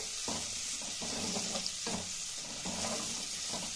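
Pieces of chilli chicken sizzle steadily in a hot pan as a utensil stirs them in about five regular strokes, each scrape rising briefly above the constant frying hiss. No one speaks.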